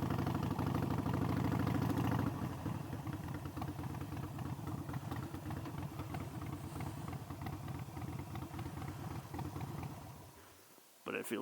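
A motorcycle engine idles with a steady, throbbing mid-range rumble that is loud at first, then settles to a lower, even idle before dropping away near the end.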